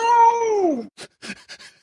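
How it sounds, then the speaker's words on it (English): An elderly, grumpy pet cat lets out one long, loud, close meow that falls away at the end, followed by a few short soft rustles. "so that is what my cat apparently sounds like"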